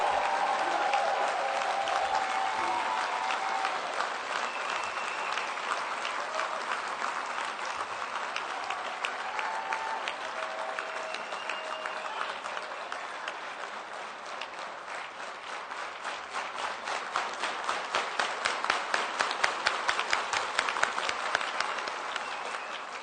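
A large teachers' union council audience applauds at length after a political speech, a dense sustained roar of clapping that thins briefly midway, then swells again toward the end with cheering under it.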